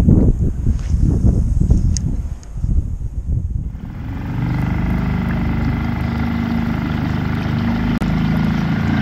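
A small 2.5-horsepower outboard motor on the back of a kayak starts up partway through and settles into a steady, buzzing drone, with splashing water before it.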